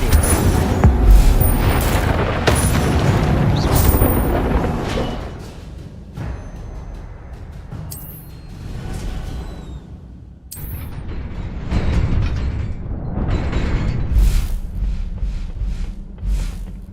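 Incendio fire spell effects in Hogwarts Legacy, loud booming bursts and crackling roars at the start, then quieter rumbling and several sharp bright flares, with game music and ambience underneath.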